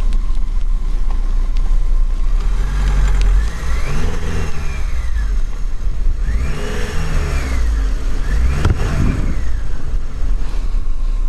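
A Lada Niva 4x4 locked in low range pushes through deep snow in hard frost, its engine droning loudly and close, revs rising and dropping in repeated surges.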